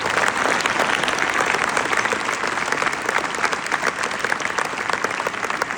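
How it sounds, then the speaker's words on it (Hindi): Students at a school morning assembly break into loud, sustained applause, a thick, continuous roar of many clapping hands close by with no speech over it. "अपने लिए, अपने स्कूल के लिए और स्पेशली भाटिया जी के लिए, प्रिंसिपल मैम के लिए, अपने अध्यापकों के लिए एक बार जोरदार तालियां जरूर बजाएं"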